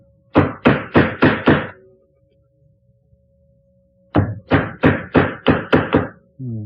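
Mallet strikes on a chisel cutting into wood for a Windsor chair, two bursts of five or six sharp, evenly spaced knocks, close and loud, separated by a quiet pause.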